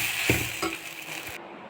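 Idiyappam string hoppers stirred with salt and turmeric in a hot pan, giving a steady close sizzle with two soft scraping stirs early on that fades toward the end.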